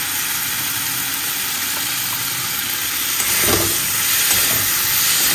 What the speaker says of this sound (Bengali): আদা দিয়ে কষিয়ে নেব